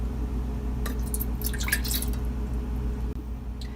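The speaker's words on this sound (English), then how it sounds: "Pour the water into your saucepan." Water trickles and drips into a saucepan while gummy bears are being made, with a soft liquid splashing that comes in a short burst over a steady low background hum.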